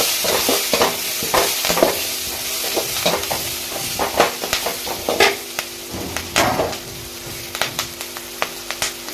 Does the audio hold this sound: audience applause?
no